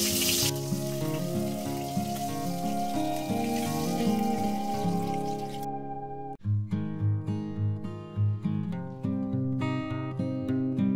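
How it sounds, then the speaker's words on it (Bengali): Fish frying in hot oil gives a steady crackling sizzle, heard under loud background music that drops out briefly partway through. "মাছগুলোকে ওলট পালট করে আমি ভেজে নিলাম আর মাছগুলো ভাজা হয়ে গেছে"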